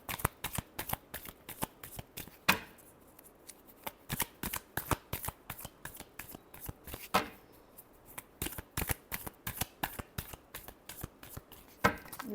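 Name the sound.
tarot cards being shuffled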